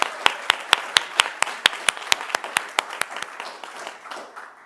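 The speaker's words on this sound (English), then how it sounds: "can I have a round of applause for Ashley Scrace" Applause at the Brighton Students' Union Excellence Awards 2014 for a highly commended nominee: a sparse, steady run of distinct hand claps, fairly close and evenly spaced, tapering slightly toward the end.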